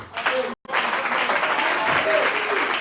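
A church congregation bursts into applause for Jesus during a prophetic sermon. The clapping is dense, loud and sustained, with voices mixed in and a brief drop to silence about half a second in.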